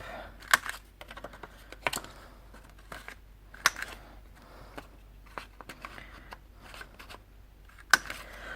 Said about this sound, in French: je vais arrondir les coins avec ma petite perforatrice de chez Artemio